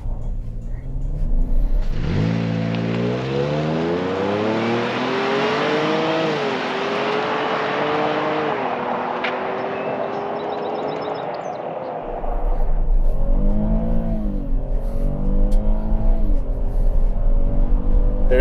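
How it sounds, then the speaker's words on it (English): A 2022 Chevrolet Traverse RS V6 accelerates hard from inside the cabin. The engine note climbs loudly through several rising sweeps with gear changes between them, then settles into a steadier drone with a deep rumble. "I'm gonna test the acceleration. Let's see what this Traverse RS got."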